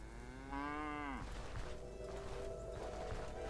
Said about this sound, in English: Cows! I didn't know they had cow models in the game.